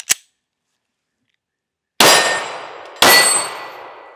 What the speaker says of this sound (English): There's a steel target out here.